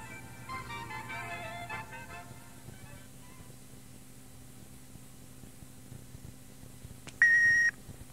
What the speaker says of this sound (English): Wait for the sound of the beep.